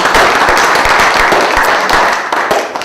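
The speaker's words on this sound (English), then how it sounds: "a big round of applause" Audience at a DaVinci Institute talk giving a round of applause, steady dense clapping that stays loud and even before tapering slightly at the end.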